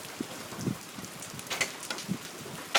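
Hailstones striking a house during a Michigan hail storm, scattered faint taps and thuds at irregular intervals over a quiet background, no talk.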